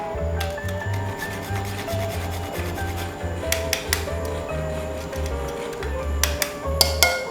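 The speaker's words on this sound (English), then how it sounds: "I'm gonna grate the nutmeg into the mixture now." Whole nutmeg is rubbed across a metal grater over a rompope mixture, producing repeated scraping strokes with occasional sharp clinks of the grater against the bowl, close and fairly loud.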